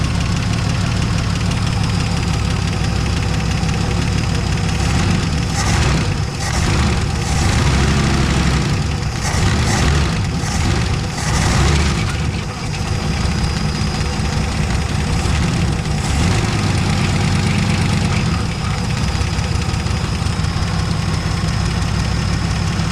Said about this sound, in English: Surprised it started up and started idling that well.